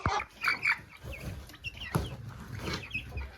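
Three dark Brahma hens cluck and murmur close by in short, irregular bursts, with soft chatter and a few louder squawk-like notes.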